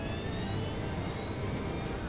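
A KLM airliner speeds along a foggy runway toward another jet, a steady loud roar of jet engines with a thin high whine, continuous and without talk.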